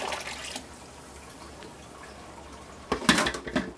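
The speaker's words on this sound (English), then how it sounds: "All I'm going to do is just pour this in." Wet paper slurry is poured into a paper mold: a quiet stretch gives way to a short, close burst of sloshing, splattering liquid near the end.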